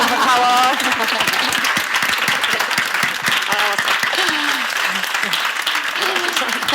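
Audience applause at the close of a public event: dense, steady clapping from a crowd that carries throughout, with voices faintly underneath.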